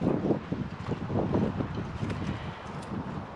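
Wind gusting across a beach after a storm, a steady broadband rush with rumbling buffeting on the microphone, fairly loud and continuous with no talk.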